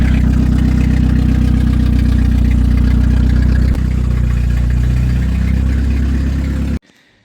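An old go-kart engine runs loudly and steadily at a low, throbbing idle for several seconds, then cuts off abruptly near the end.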